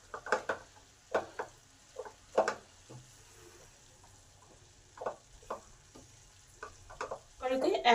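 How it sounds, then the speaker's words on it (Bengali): Potato and cabbage are stirred in a wok as they cook in the water released by the cabbage. Scraping, sizzling strokes come in irregular bursts against quiet gaps, ending in a busier flurry of stirring. "ভালো করে নেড়ে দেব, আলু আর বাঁধাকপি ভালো করে পাইল করে দেব"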